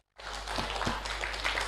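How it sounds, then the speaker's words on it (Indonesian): Audience applause breaks out abruptly at a livestreamed animal nutrition training session, steady clapping from a modest group over a low hum. "Kita beri tepuk tangan"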